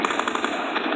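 Rapid automatic gunfire from a video game rattles in a fast even burst across a second, loud and close with no voices over it.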